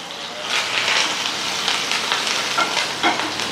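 A hot oil tempering of mustard seeds, cumin, urad and chana dal, dried red chillies and curry leaves sizzles loudly and steadily, a close, continuous hiss with faint crackles and no speech.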